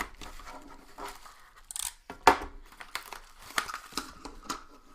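Mail package being cut open, with crinkling and tearing of packaging and a few sharp clicks and rustles close by, in irregular bursts.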